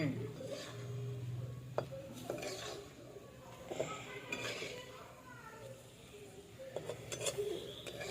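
Chicken kasha stirred in a cooking pan, with intermittent metallic clinks and scrapes of a spatula against the pan under a sizzle, while people talk nearby.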